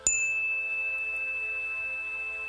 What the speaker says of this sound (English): As the sound of the bell fades into the universe